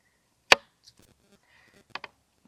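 A knife slices tomatoes on a board at a campsite, giving one sharp, close chop, then a few faint taps and two quick cuts in near silence.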